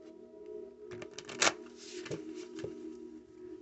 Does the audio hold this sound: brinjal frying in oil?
no